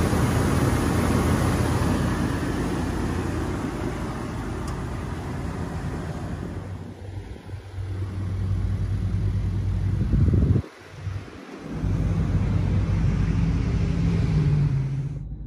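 Idling 8.1 liter V8 in a 2003 GMC Sierra 2500HD 4x4 pickup, a steady low rumble heard up close, smooth and even, with a few brief knocks and dropouts near the end.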